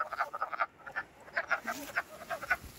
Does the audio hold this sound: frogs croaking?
yes